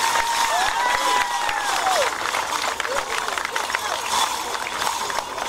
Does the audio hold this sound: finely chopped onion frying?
no